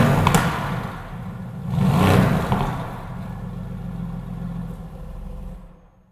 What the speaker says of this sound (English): you'll find the exhaust will open up and it's going to sound like this